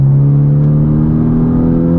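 Honda Civic Type R with a Stage 3 flex fuel tune accelerating hard in sport mode from 4,000 RPM, a loud, steady engine drone with a rising, sustained tone heard from inside the cabin, no talking.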